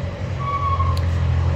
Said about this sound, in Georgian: მოძრაობენ მანქანები